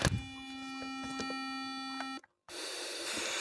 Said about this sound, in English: Constant beep.